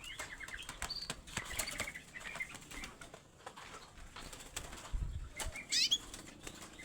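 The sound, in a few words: young local Pacitan oriole bird, wings flapping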